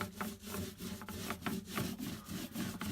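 Paint roller spreading varnish over a wooden cockpit hatch, a close, soft rhythmic rubbing in quick back-and-forth strokes about every third of a second, with no talking.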